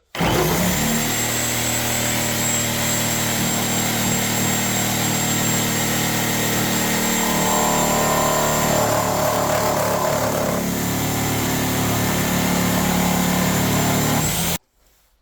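A reciprocating saw fitted with a DeWalt demolition blade cuts through a nailed 2x4, running as a steady, loud, continuous drone for about fourteen seconds before it stops abruptly, with no voices.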